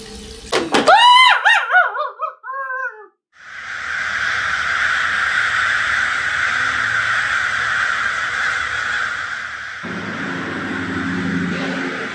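Crows caw in a harsh, ragged burst during a fantasy film scene, several loud overlapping calls, then a steady rushing noise that carries on to the end.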